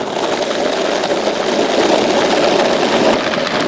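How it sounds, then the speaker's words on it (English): R5 electric skateboard rolling through the small town of Salmo, a constant loud rumbling whir of wheels and motor with no pauses or voices. "You just hop on the electric skateboard and you can get anywhere you need to go."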